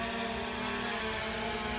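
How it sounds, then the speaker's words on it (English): A DEERC DE22 PRO drone flying outdoors in wind, giving a constant dense propeller whine and buzz that stays loud and even throughout, with no voices. "I'm going to turn the drone around."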